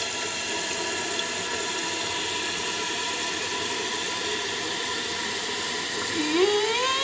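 A toilet tank refills with water through a newly installed fill valve, giving a steady, close rushing hiss that carries throughout, with the tone rising and shifting near the end as the tank fills. No one speaks.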